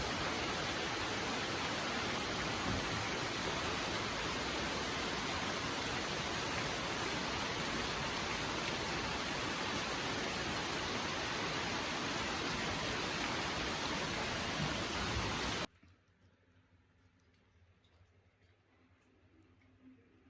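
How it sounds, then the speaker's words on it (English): Steady, loud hiss of rain pours continuously around a home for about fifteen seconds, then cuts off abruptly to near quiet with faint background sounds; no one speaks. "so we're having some rain"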